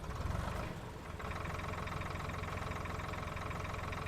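An old, cabless tractor engine idles in Farming Simulator 13, giving a low, steady, even chug. The engine is faint and runs alone after a brief louder rumble at the start.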